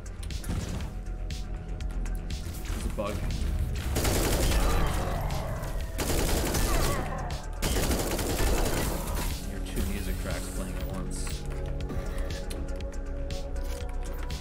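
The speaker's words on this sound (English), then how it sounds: "Now this is a speedrunning gun." Dense, sustained bursts of rapid gunfire from a speedrunning gun in Echo Point Nova, loud and continuous with crashing impacts layered over a steady game soundtrack.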